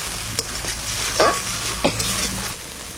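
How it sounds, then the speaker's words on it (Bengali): Poppy seed paste mixed with water hisses and sizzles in a hot pan while being stirred for a Bengali village-style rui fish dish, with a few sharp scrapes of the spoon over a steady frying crackle. "পোস্ত বাটাটা জল দিয়ে গুলানো দিয়ে দেবো। একটু নাড়াচাড়া দিয়ে তারপরে জল দেবো।"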